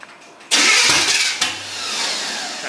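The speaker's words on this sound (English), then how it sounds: "Give it a little gas. I want to hear it run." A 1971 Camaro Z28 engine catches and revs hard, a sudden loud roar that eases off, then a second blip of throttle settling into a rough, steady run.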